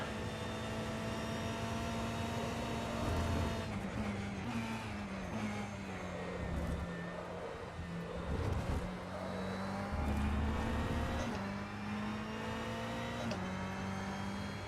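A Ferrari 488 GTE race car in rFactor 2 holds a steady, droning engine note that shifts pitch with upshifts and downshifts. Brief tyre and gearbox noises sit over it, with no talking.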